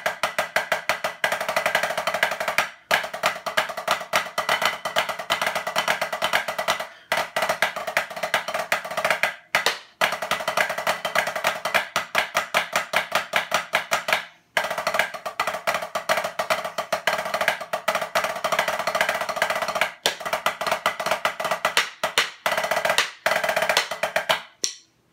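Drumsticks strike a Xymox practice pad in fast, dense rolls and steady strokes, a crisp close tapping that runs nearly continuously with brief gaps between passages and no talking.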